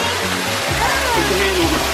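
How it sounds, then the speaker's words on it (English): Small waterfall trickling inside a mini cave at the Virginia Living Museum, a steady close rush of splashing water with a low hum underneath. "Inside of a little mini cave with a waterfall."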